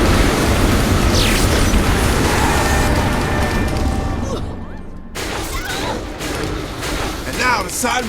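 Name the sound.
explosion in Saints Row 4 video game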